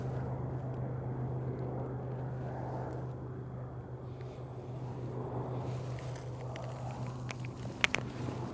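Small air support planes flying directly over an RV during wildfire smoke in Spokane County, a steady low drone that persists throughout with a faint higher whine midway and a brief knock near the end.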